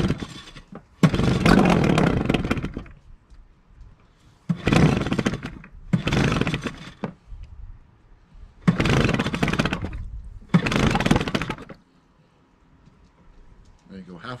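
An 8hp Mariner outboard motor made by Yamaha, pulled to start for the first time, giving several loud bursts of engine roar of a few seconds each, separated by quieter gaps with a faint idle, close to the listener.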